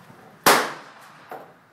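A single sharp rifle blast during sniper training cracks loudly and nearby, then rings out in a decaying tail, with a fainter second report about a second later.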